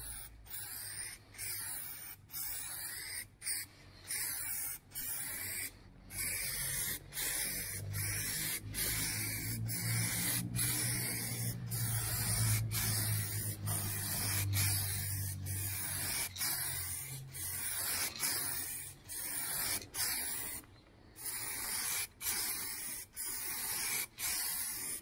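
Rattle can spray paint hisses steadily as a second coat goes on, in long continuous bursts broken by brief pauses, close and fairly loud over a low background rumble.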